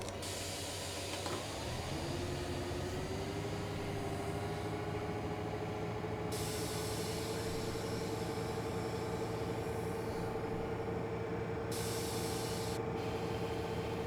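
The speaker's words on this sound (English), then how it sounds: "It's a lot of noise when it releases the brakes." Train brakes releasing on a train in Train Sim World 5 on the Niddertalbahn, a loud, steady hiss of escaping air that continues throughout over a low engine drone, with no speech.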